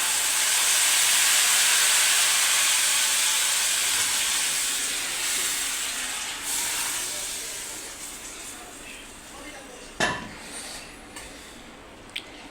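Tempering spices (popu) hiss and sizzle loudly in hot oil for a mango dal, the spitting fading gradually over several seconds into a quieter crackle with a few sharp clicks near the end.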